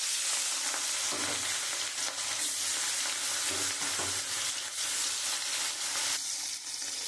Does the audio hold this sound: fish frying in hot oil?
yes